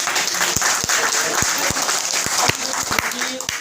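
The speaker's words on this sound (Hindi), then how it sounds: "इनके लिए आप लोग जोरदार तालियों से स्वागत करें।" Loud crowd clapping welcomes Ashok Kaithal, a former district president just promoted, at a gathering of fraud-affected depositor families; sharp individual claps ring out over a dense round of applause, with voices mixed in.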